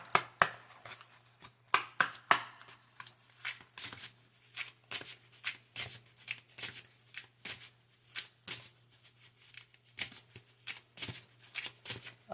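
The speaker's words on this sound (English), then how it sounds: "here go these cards that take forever to shuffle" Tarot cards are shuffled by hand in quick, irregular riffles and slaps, close and fairly quiet, with a low steady hum underneath and no talking.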